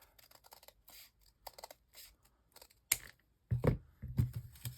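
Paper being cut off for a craft project, a series of short, crisp snips in quick bursts, then a few louder rustling cuts near the end.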